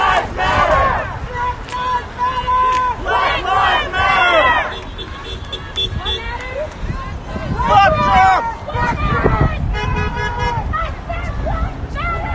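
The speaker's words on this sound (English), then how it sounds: "This crowd is massive." A large street protest crowd for Black Lives Matter in Pasadena, Maryland chants in unison, loud and close, rising and falling in repeated waves over steady crowd babble, with occasional car horn toots and individual shouts.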